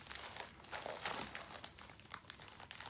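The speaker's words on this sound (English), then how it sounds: "Oh, this is a bit harder because it's in a plastic." A plastic packaging bag from an online purchase being torn open, a burst of crinkling and ripping close up with rustles continuing throughout, no talking.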